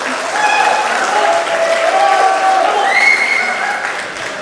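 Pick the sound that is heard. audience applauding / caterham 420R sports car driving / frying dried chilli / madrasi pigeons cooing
audience applauding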